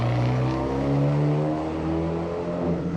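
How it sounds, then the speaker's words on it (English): An Abarth 124 Spider roadster drives through a handling test course, its engine a steady close drone that rises slightly in pitch, alone without talk. "Let's move on to the handling test where we'll start with our Abarth 124"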